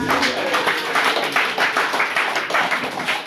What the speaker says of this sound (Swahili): Pigie makofi baba mzee wa hizi